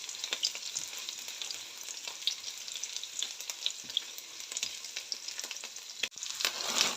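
Onion and ginger sauté in a pan with a steady, bright sizzle and crackle that runs unbroken. Occasional soft scrapes of stirring come through, and no one speaks.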